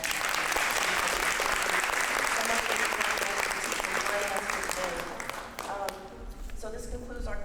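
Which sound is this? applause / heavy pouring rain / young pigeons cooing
applause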